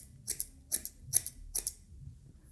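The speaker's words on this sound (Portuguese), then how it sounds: "Isso aqui é a tesoura dentada, tá?" Thinning scissors snip through hair during a taper fade on very difficult hair, four crisp double-clicks in a steady rhythm, close and alone against a quiet room.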